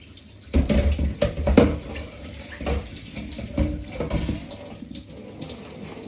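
Kitchen tap water splashes into a sink while a dog's water bowl is rinsed, an uneven running and sloshing close by with no talking.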